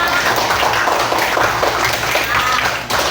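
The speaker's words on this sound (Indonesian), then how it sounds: "Oke, tepuk tangan untuk kita semua." Students in a classroom applaud themselves in a short burst of clapping, a dense, fairly loud patter of many hands that tapers off near the end.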